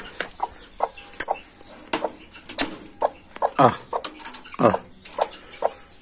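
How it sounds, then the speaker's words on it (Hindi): Chickens let out of their coop, clucking and squawking nearby with some wing flapping, while someone talks over them. "तो जी मुर्गियों को खोलते हैं जी।"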